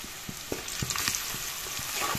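Spices for a spinach and fish curry sizzle steadily in a pan. Short scrapes of stirring break in at intervals, close and fairly quiet, and no one speaks.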